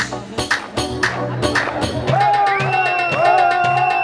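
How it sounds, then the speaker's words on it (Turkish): Wedding guests clap rhythmically for the groom during a halay dance, crisp evenly spaced claps that give way to loud live folk music with a steady beat. "Sadece damat benim için bir alkış."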